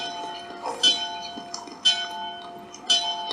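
A toll house bell rings in a light show soundtrack, sounding as bright metallic strikes about once a second over a sustained ringing hum.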